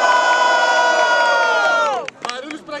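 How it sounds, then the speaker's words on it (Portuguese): Crowd at a student rap battle roaring and shouting loudly in a sustained burst that cuts off after about two seconds, followed by scattered calls. "Barulhos pra quem gostou das rimas de Lili!"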